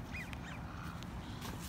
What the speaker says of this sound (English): Some geese.